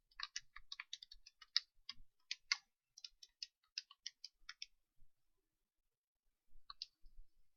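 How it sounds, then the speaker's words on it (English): Fingers tap calculator keys in a quick run of light, crisp clicks, then pause before a final short burst, all quiet and close with no voices. "Type that directly into the calculator."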